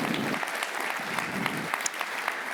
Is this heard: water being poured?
no